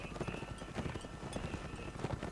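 Horse hooves clip-clop steadily in a Napoleonic Wars video game, a quick even rhythm of soft thuds that is moderately faint and continuous, heard alone without talk.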